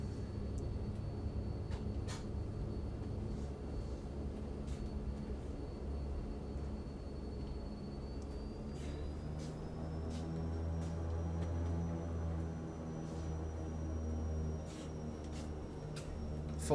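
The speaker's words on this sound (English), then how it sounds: "Full power on the props." Twin turboprops of a BN-2T Turbo Islander run at full power in a flight simulator, a steady droning roar whose propeller tone slowly rises, with faint intermittent clicks over it.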